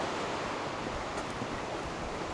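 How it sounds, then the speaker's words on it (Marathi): Babbling stream in Austria flowing steadily, a continuous broadband rush of water heard close and fairly faint, with no voices. "इथून खळखळ खळ वाहणारं पाणी"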